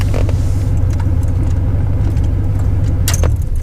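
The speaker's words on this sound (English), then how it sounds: "And then shut the car off." Idling manual-transmission car rumbling low inside the cabin, keys jangling in the ignition, then a click and clatter as the engine is switched off near the end.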